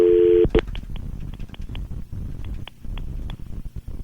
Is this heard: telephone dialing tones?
yes